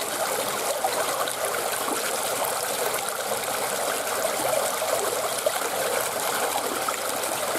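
Water rushes steadily through a culvert pipe, a dense, continuous gushing and trickling flow heard close and fairly loud without pause.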